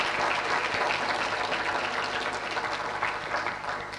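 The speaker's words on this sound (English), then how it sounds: "Can we all give a round of applause to Mayor Ras J." An audience applauds Mayor Ras J. Baraka at a book club event, a dense, sustained wash of clapping from a room full of people that holds steady for the whole stretch.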